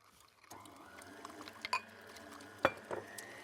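Boiling water poured steadily onto instant coffee and sugar in a cup, with a faint rising tone as it fills and a couple of sharp clinks of glass or spoon, quiet and close.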